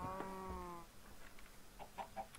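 Minecraft chickens clucking, a drawn-out tonal squawk followed by a few soft, short clucks, near and fairly quiet with no voices over them.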